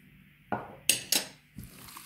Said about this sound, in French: et je mélange bien le tout